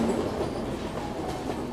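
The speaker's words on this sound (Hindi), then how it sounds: "पहाड़ों को चीरती हुई हमारी ट्रेन चली जा रही है।" A passenger train runs steadily along rail track through the hills of Mizoram, its continuous rumble and faint clickety-clack close and unbroken, with no voices.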